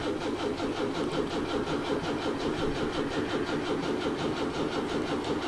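Ford V8 Pilot with a flathead V8 engine cranking over in a fast, rhythmic churn of starter pulses, steady and close throughout.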